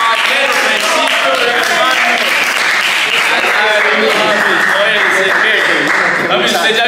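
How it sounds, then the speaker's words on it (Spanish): Loud sustained audience applause for a contestant on a Spanish-language dating show, a dense wash of clapping lasting throughout, with a voice shouting over it. "vamos con un fuerte aplauso con el Rexito"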